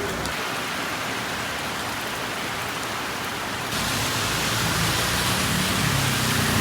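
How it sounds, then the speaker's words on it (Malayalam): Heavy rain falling in Trivandrum, a steady broadband hiss that grows louder partway through and holds continuous and close, with no voices over it. "മഴയൊക്കെ നല്ല രീതിയിലാണെങ്കിൽ"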